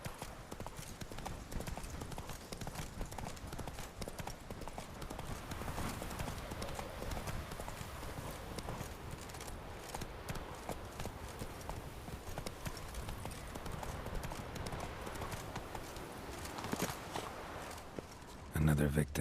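Roach the horse's hooves clip-clopping steadily in The Witcher 3, a continuous trotting rhythm under game ambience and music, with a voice speaking to the horse.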